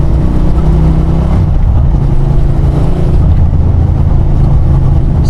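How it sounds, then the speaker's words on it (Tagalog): A motorcycle on a test ride after a fresh oil change and a swap back to the stock exhaust, its engine droning steadily and loud for the whole stretch under heavy wind rush, with no talking. "kakatapos ko lang mag-change oil na itong motor na to. I-test natin siya ngayon."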